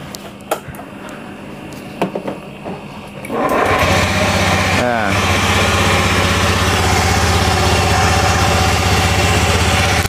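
A Honda Beat FI scooter engine with a rough-running fault starts after a few seconds of clicks and handling noises, then runs steadily and loudly up close with a harsh, uneven idle for the rest of the clip.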